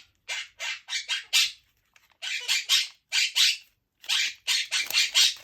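A pet parrot squawks loudly and repeatedly at close range, harsh shrill calls coming in quick bursts of three to five, separated by short silent gaps.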